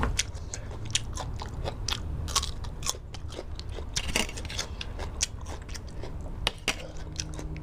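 Someone eats spicy squid salad up close, crunching and biting in an irregular series of crisp snaps and soft chewing over faint background noise, with no talking.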